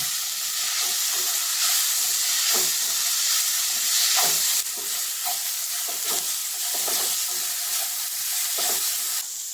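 Dried chillies and coriander roasting in a pan sizzle loudly and steadily, with repeated scraping strokes of a spoon stirring the mix at a close, uneven rhythm.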